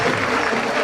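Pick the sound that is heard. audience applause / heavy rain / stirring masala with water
audience applause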